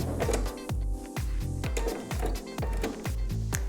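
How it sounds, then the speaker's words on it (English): A sewing machine back-tacks at the end of a seam on a single welt pocket, with a rapid, close mechanical rhythm of short stitching bursts that repeatedly stop and start. "We have to back tag again at the end."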